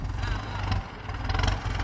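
A Massey Ferguson tractor ploughs a rice field to prepare the soil for planting. Its engine gives a low, steady rumble at moderate distance, with a brief dip in the middle.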